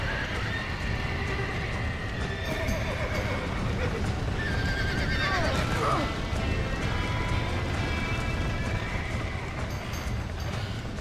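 Horses whinny and neigh amid clattering hooves inside a burning barn in Red Dead Redemption, with a sharp rising-falling whinny near the middle over dense background commotion and voices talking.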